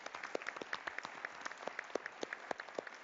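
A conference audience claps after a World Leaders panel session at a forum, a scattered and fairly quiet round of applause with individual claps standing out.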